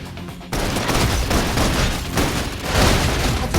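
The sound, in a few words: suppression gunfire in video game Love and Deepspace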